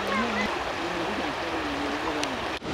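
A small waterfall on a Yosemite trail along the John Muir Trail gives a steady broadband rush of falling water, with faint voices murmuring over it.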